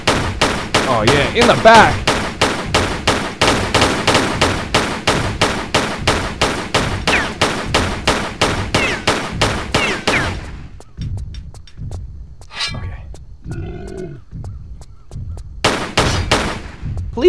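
An enemy in Tomb Raider 3 keeps up rapid, evenly paced gunfire for about ten seconds, loud and close. It then breaks off while someone speaks, and a short burst returns at the end.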